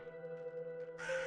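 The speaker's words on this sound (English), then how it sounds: "Crows." Crows caw in a video game, a short burst of harsh calls rising over a steady, tonal in-game hum.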